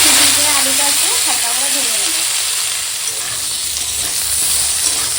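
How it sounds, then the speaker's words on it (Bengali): Snake gourd and potato pieces frying in hot oil, a loud close sizzling hiss running throughout, with someone talking over the first half before the frying continues alone. "দেখো চিচিংয়ের আলুটাও এখন হালকা করে এরকম ভাজা হয়ে গেছে"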